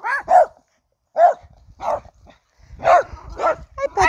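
Small puppies bark and yip in short, sharp bursts, close and loud, with brief gaps of silence between the barks.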